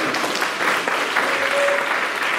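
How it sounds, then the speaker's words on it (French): A church congregation applauding, dense steady clapping from many hands that fills the space without pause. "Acclamons le Seigneur Jésus"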